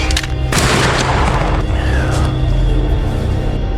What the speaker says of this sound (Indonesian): Tembakan pertama mereka sama-sama terkena di bagian lengan.